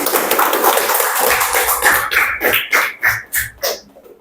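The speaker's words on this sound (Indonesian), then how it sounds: "Tepuk tangan." A classroom group claps together in a short, rhythmic run of sharp, evenly spaced claps, rising out of a murmur of room noise during an Indonesian teaching-practice lesson.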